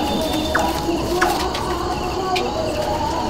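Teddy pigeons in a loft coo softly against a steady background hum, with a few brief higher chirps standing out; no voices are heard.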